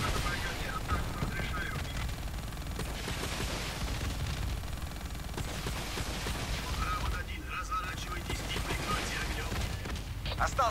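Rapid gunfire in Call of Duty: Black Ops 3 runs in dense overlapping bursts of automatic fire, like a fusillade, loud and continuous across the whole stretch, with game noise around it.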